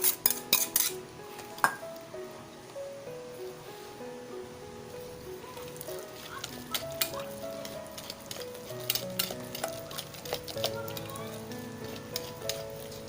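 A mix of melted Eden and Magnolia cheese is stirred in a bowl with a utensil, giving repeated scraping and clinking taps against the dish, with sticky sounds near and fairly quiet.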